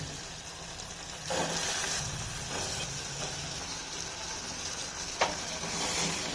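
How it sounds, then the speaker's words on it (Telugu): Chana dal curry with softened tomatoes frying in a pan, giving a steady low sizzle with stirring scrapes and a sharp clink near the end, heard alone at moderate loudness. "ఒక రెండు నిమిషాలు ఇట్లా ఫ్రై చేసుకొని"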